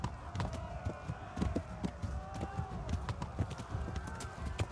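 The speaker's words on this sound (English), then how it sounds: "Okay, let's do a little cantering." A horse cantering in the medieval video game Kingdom Come: Deliverance, a rhythmic run of hoof thuds on the ground over a low ambient backdrop, moderately quiet with no talk.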